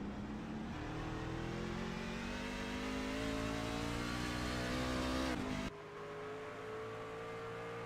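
Racing trucks roar around an oval track in a truck series race, a loud continuous engine drone with rising pitch as they accelerate, then an abrupt drop as the sound shifts mid-way.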